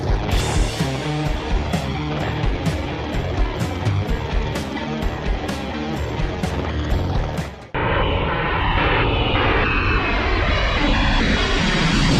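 A loud, continuous airplane engine roar with a dense, buzzing texture, which cuts abruptly to a softer, smoother whoosh partway through.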